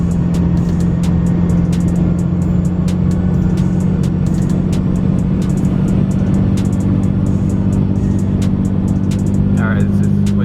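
Cummins diesel pickup with stock exhaust manifold pulling uphill, heard from inside as a loud steady engine drone with a constant low hum and rapid ticking, and a voice briefly speaking near the end.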